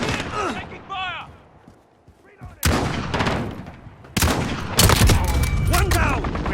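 Loud, close gunfire bursts in an online shooter game match: sharp cracks and sustained volleys after a quieter stretch, with game voices speaking over parts of it.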